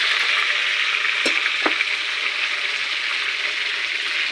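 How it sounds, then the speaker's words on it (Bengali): Whole small potatoes fry in hot oil with salt and turmeric, sizzling steadily and loudly close by, with a couple of sharp clinks from stirring partway through and no talking. "এখন নুন হলুদ দিয়ে আমি আলুটা ভাজা করে নেব।"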